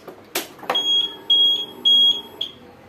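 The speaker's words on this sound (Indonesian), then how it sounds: "begitu kita kontak on, maka buzzer akan berbunyi tiga kali" A vehicle's added electronic buzzer beeps three times as the ignition is switched on, each a steady high tone about a third of a second long, following a couple of sharp relay clicks.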